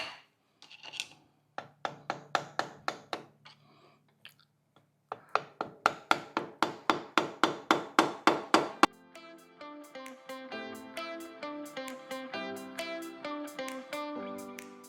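Pin being driven into the winch rope of a WARN Zeon 10-S winch on a 2024 Jeep Wrangler Rubicon 392, with a screwdriver used as a punch: runs of sharp metallic taps in quick, even bursts, close and loud, then softer clinking handling sounds.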